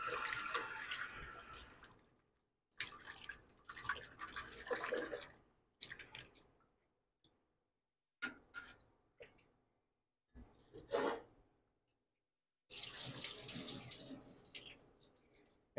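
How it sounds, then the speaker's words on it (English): Hot tap water runs into a sink while salted sausage casings are rinsed, flowing in bursts that start and stop with splashing and rubbing between gaps, close and steady, without any speech. "Keep adding fresh hot water."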